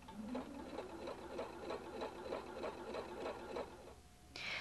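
A Husqvarna Viking Designer 1 sewing machine running a basting stitch for a temporary fitting seam, giving a steady, even mechanical rhythm of needle strokes. A brief higher whir comes at the very end.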